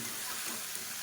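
Chopped eggplant and vegetables sauté in a pan for sambar with a soft, continuous hissing sizzle, faint and steady throughout.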